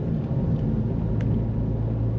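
Tire roar inside a moving car on the highway: a low, steady rumble that fills the cabin without pause, with a couple of faint higher ticks over it.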